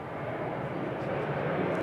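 An American Airlines jet arriving from Charlotte at Raleigh-Durham International roars steadily at a distance, a broad continuous rumble with no break across the moment.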